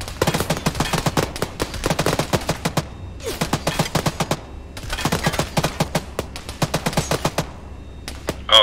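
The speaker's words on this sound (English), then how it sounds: "Machine gun is still up." Machine gun fire in the military video game Arma 3 rattles out in several long, rapid bursts separated by short pauses, loud and close.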